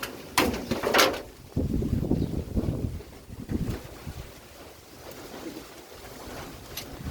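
Cool, dry wind blows outdoors and buffets the microphone in uneven, rumbling gusts, strongest at the start and easing to a steadier, fainter rush.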